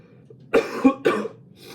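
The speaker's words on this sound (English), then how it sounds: "I'm a little bit sick, so I might cough a bit." Two or three sharp, close coughs in quick succession, with quiet pauses around them.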